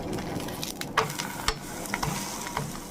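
A ragi dosa sizzling on a hot pan just after flipping, a continuous close crackle with a few sharp scraping taps, no talking.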